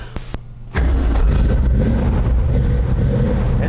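A 1965 Ford Mustang Fastback Shelby replica with a four-speed cranks briefly and catches, then settles into a loud, steady close-up idle.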